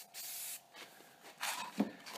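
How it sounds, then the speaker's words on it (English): Spray paint can lightly spraying a gun from about two feet away, with several short, soft hissing bursts and brief pauses between them, quiet and close. "Keep it about 2 feet away from the gun and just kind of light spray."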